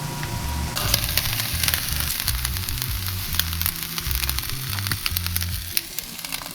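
Meat and rice fry in a pan, a loud continuous sizzle with crackling pops and occasional stirring scrapes, close up and steady throughout with no talking.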